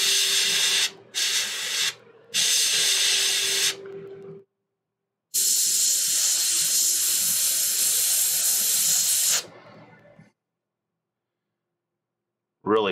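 An airbrush sprays blue paint onto a Warhammer 40K Magnus the Red model in sharp, hissing bursts: three short sprays, then a longer sustained one, separated by silences, with brief talk in between.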